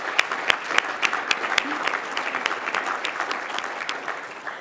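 Audience applause at a Canadian Club of Toronto luncheon event, a steady wash of clapping from a large room with sharper individual claps standing out near the front.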